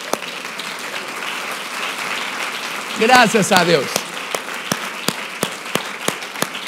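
Church audience at a Spanish-language convention breaks into applause, a dense burst of clapping that swells and then thins into scattered individual claps, with someone speaking over it.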